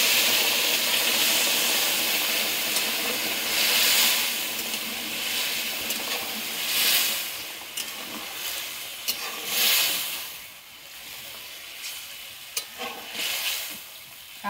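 Fish curry simmering in a hot pan as water goes in, giving a steady sizzling hiss with stirring scrapes that rise and fall throughout, close up with no talking.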